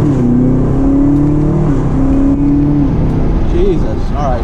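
A 2019 Camaro ZL1 1LE in manual mode revs up on a downshift, engine pitch climbing and holding in rising bursts with a clear mechanical whine, heard from the cabin.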